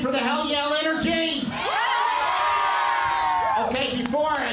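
Packed convocation crowd shouts the Hell Yell cheer in a loud, close, sustained roar of whoops and yelling voices that swells in the middle before breaking into scattered shouts.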